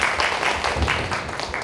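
An audience at an industrial safety and health training lecture claps steadily and evenly throughout, a dense, close ovation with no voices over it.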